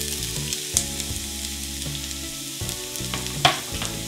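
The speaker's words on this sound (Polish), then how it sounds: "Wrzucam całość." Onion tossed into hot fat in a well-heated pan sizzles and crackles continuously up close, with a few sharp pops and stirring clatters.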